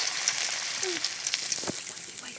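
Basmati rice grains dropped through a strainer into very hot oil give a bright continuous sizzle with a few faint pops and scrapes, moderately loud and without speech.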